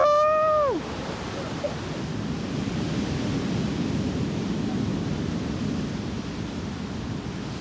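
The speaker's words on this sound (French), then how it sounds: "Juste le bruit des vagues, du vent." A brief vocal whoop opens, then a constant roar of ocean waves and wind on the coast of Cape Verde fills the rest, steady and broad.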